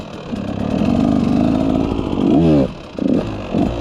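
A dirt bike engine revving during a circle wheelie, a loud close buzzing motor holding steady, then a rising rev followed by short throttle blips.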